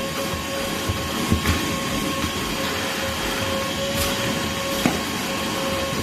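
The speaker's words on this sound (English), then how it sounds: "I hope you guys can hear me over this vacuum." A shop vacuum drones continuously inside a car with a steady motor hum and whine, occasional small knocks and rattles rising over the constant noise.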